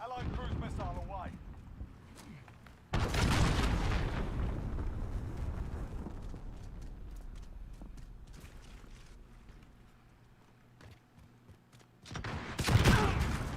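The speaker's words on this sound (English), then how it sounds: "Allied cruise missile away." A cruise missile strike in a Call of Duty multiplayer match hits as a loud, broad roaring blast, followed by a long rumbling decay and a second heavy burst near the end, with faint talk underneath.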